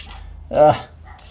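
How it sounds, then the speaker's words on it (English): Dogs barking outside a garage where a Honda TRX 125 ATV pull-start recoil is being repaired, one short loud bark standing out from a quiet indoor room background. "Got dogs outside barking"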